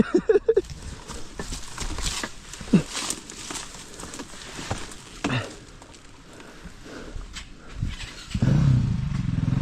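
An enduro motorcycle engine idles and revs unevenly nearby, with scattered knocks and rustles, then grows louder and rougher near the end.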